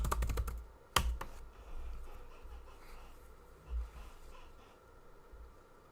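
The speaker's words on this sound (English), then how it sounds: "let me just type." A computer keyboard is typed on in a quick flurry of clicky keystrokes at the start, followed by a couple of isolated key taps and then a quieter stretch.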